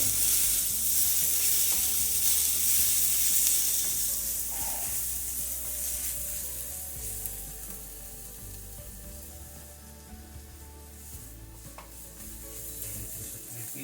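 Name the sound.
garlic sizzling as it fries in a pan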